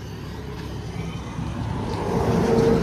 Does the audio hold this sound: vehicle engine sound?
yes